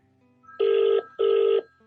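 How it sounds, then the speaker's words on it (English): A telephone rings at home with two loud, even electronic bursts separated by a short gap, each ring steady and buzzing, with no voices. "You can hear her phone."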